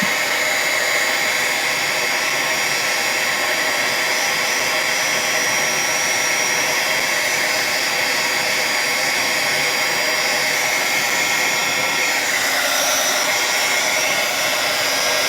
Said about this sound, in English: we're going to go ahead and get the heat gun. And heat it up.